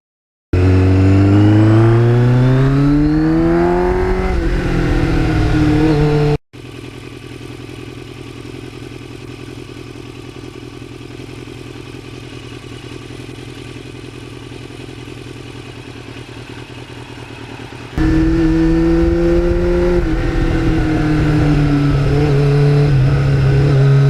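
A 1989 Kawasaki Ninja GPX750R revs hard close by, its engine note climbing in pitch, dropping to a lower steady drone for several seconds, then rising again into loud revving.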